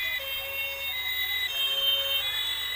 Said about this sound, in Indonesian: Bunyinya sirine polisi.